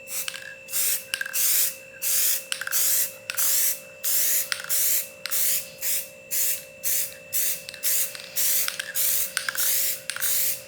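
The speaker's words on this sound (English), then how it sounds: "So I just went and sprayed a little bit, the new Behr one." Behr Metallic Vintage Gold gloss spray paint hisses from an aerosol can in a long series of short bursts, about twenty even pulses, close and loud over a steady electrical hum.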